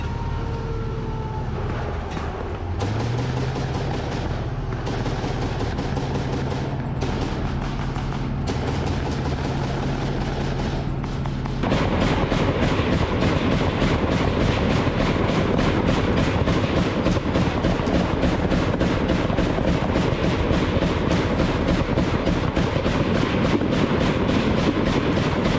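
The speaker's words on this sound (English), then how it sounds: "The Bushmaster cannon cuts through trees like cotton candy." Rapid, relentless fire from an M2 Bradley's Bushmaster autocannon, first in spaced bursts over a low engine rumble, then an unbroken hammering stream of shots, loud and close.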